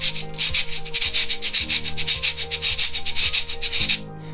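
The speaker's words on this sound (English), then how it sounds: "So we have many different types of shakers." Percussion shakers shaken in a steady, even rhythm, each stroke a crisp, loud rattling swish repeating about twice a second with no voices.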